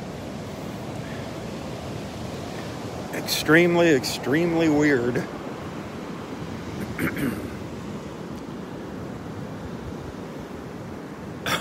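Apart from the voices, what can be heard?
ocean waves breaking on the beach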